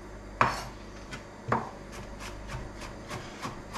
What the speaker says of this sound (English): Your knife will just roll through garlic.